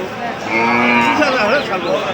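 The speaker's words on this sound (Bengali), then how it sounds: "গাভী গরু দেখাচ্ছি দর্শক" A dairy cow at a cattle market gives one loud, drawn-out moo up close, steady and wavering for about two seconds.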